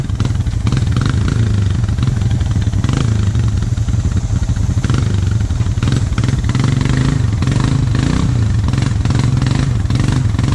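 A four-wheeler ATV in the woods runs at full throttle, a loud, rough, continuous engine roar with slight surges in pitch and no pauses, close to the listener.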